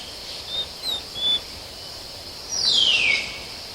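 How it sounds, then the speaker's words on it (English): Morning jungle ambience carries a few short, thin bird chirps and a longer descending call over a faint, even hiss of insects. The calls are moderately loud and spaced apart, and no one speaks. "the jungle pulses with the sounds of insects and birds."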